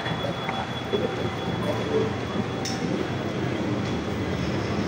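An MRT train rumbles faintly through North Avenue station, a low, steady roar with soft echoes around it.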